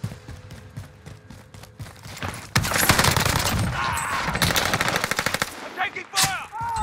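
Rapid automatic gunfire in Warzone from an Owen gun loadout, loud and sustained bursts of machine-gun fire with overlapping shots, joined briefly by a voice calling out near the end.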